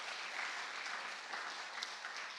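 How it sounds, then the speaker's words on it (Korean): A church congregation claps together for a young mother at a dedication service, a steady, even patter of many hands that stays faint and distant, with no voices over it. "우리 젊은 엄마를 위해서 우리 큰 박수 한번 합시다."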